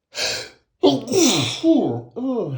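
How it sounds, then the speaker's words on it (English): A person sneezes several times in quick succession, close and loud, with a sharp gasping intake before the bursts, during a conversation on a call; other voices speak around the sneezes. "I feel a sneeze coming."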